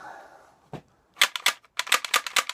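Cosplay airsoft-style blowback pistols clack in quick bursts of sharp mechanical clicks and snaps, close and loud, following a brief low hum.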